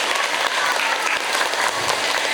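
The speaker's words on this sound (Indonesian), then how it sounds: "tepuk tangan buat beliau" An audience at a parenting seminar applauds for a village head, a steady, close wash of many hands clapping that stays even throughout, with no talk over it.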